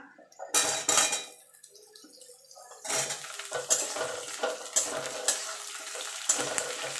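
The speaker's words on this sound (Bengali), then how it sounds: "আলুটা একটুখানি পেঁয়াজের সঙ্গে ভাজা ভাজা করে নেব" Potatoes and onions fry in a pan with crackling sizzle while a utensil scrapes and stirs, producing repeated clattering strokes against the metal, close up.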